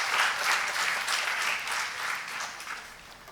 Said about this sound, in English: Please have a huge round of applause for Dr.